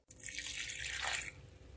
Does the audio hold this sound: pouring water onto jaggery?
yes